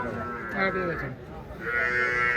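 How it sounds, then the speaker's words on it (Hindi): Water buffalo lowing at a dairy farm in a long, drawn-out call, fairly near, with people talking over and around it. "सहज डेयरी फार्म सुखराम जी की भैंस है जी।"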